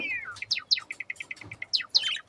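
A pair of grey cockatiels in a home bird setup give a quick series of sharp, high chirps and short whistled calls, close by, in rhythmic bursts with no talking.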